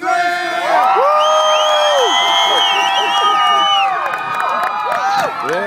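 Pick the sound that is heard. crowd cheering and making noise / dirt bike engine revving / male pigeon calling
crowd cheering and making noise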